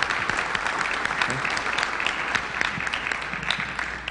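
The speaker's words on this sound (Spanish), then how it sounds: "un fuerte aplauso" Audience applause for the panelists at the close of a conference panel on manufacturers and IPv6, a dense, steady wash of many hands clapping at even loudness throughout.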